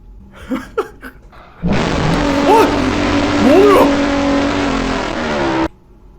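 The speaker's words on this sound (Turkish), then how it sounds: "Araba sesleri mi bu?" A few brief voice sounds, then a loud video game car engine roars in for about four seconds, holding a strong rev with whining tones before cutting off abruptly.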